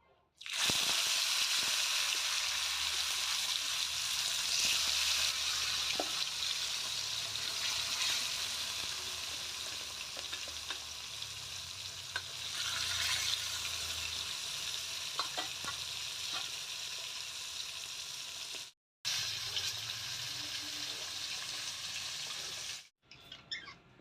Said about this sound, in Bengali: এই যে মেখে রাখা মাছটা আমি এখন দিয়ে দেবো এক এক করে কড়াইতে